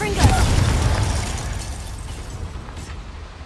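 A Confringo fire spell blasts from a wand during a magical fight in Hogwarts Legacy, a loud burst near the start that fades into a low rumbling tail with a second faint flare later.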